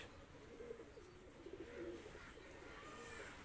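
A pair of Pakistani high flyer pigeons, a male and a female, coo softly several times in a quiet, distant-sounding space, with low murmuring calls spread over a faint background hiss.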